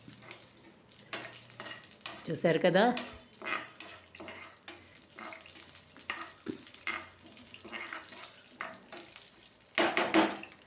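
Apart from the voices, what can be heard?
tempering spices frying in a pan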